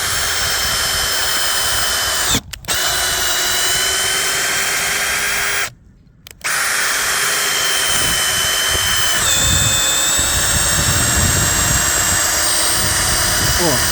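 A cordless screwdriver drives a screw into the end grain of acacia wood, a loud high-pitched motor whine that strains and shifts pitch with two brief cut-outs, heard close up.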